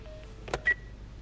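A few short electronic dialing tones, one brief burst after another, fairly quiet over a low background hum.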